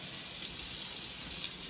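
Water streaming steadily from a tap into a sink in a shipping container home, a constant close hiss of running water with no other sounds.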